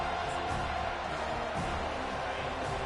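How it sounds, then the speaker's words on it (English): Home crowd in a Florida State versus Pitt college football video game, a loud, steady roar of cheering and whooping filling the stadium on third down, with no distinct voices. "Here comes this home crowd as the defense tries to get off the field on third down"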